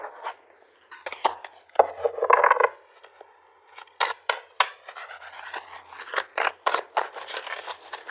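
Tarot cards are shuffled and pulled, giving crisp, close card slides, flicks and snaps in irregular bursts with short quiet gaps. No voices are heard.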